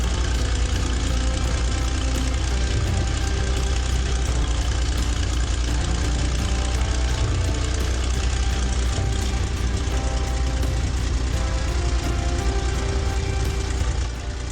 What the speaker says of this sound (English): When it ignites, the intake roar gulps air violently before hammering out each exhaust stroke.